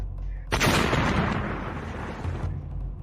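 An underwater explosion in a spy thriller audiobook bursts suddenly into a loud, broad roar that holds for about two seconds, then cuts off, leaving low rumbling behind.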